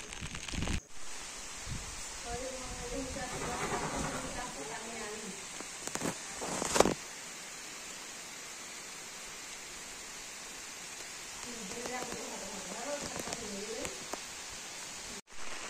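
Steady rain hiss fills the background throughout on a farm with a bullock and goats, with brief voices and a few thumps over it.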